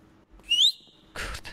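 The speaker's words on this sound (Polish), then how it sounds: "Gwiżdżę cały czas." A player in Roblox Backrooms whistles once, a short rising whistle, followed by a brief burst of noisy rustling; quiet overall with no talk.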